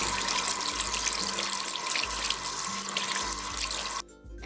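Tap water runs steadily into a sink while a plain unpainted plastic LPS pet toy is washed. The stream is loud and continuous, then cuts off abruptly near the end, leaving quieter room sound.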